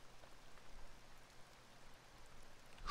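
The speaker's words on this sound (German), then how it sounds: "Jetzt sehe ich ganz feinen Regen." Fine rain in the H1Z1 survival video game falls as a soft, steady hiss, faint and continuous, with no talking.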